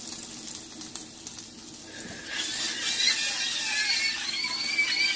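Hot cooking oil sizzles in a pan. It starts quiet, then swells into a bright, crackling hiss with thin squealing tones partway through and stays loud to the end.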